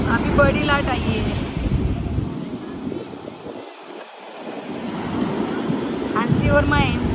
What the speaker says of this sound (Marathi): अभी बड़ी लाट आई है